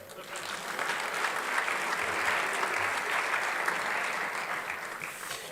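A crowd at a Santa Monica State of the City event applauds its city leaders, a sustained, even wash of clapping from a sizable audience that swells and then slowly tapers.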